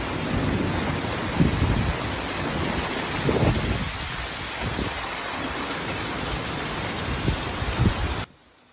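Steady heavy rain pouring onto backyard garden rain barrels, a dense continuous hiss with occasional low rumbles, ending abruptly.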